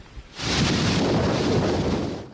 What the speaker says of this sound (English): This wall of wind and rain is only getting worse tonight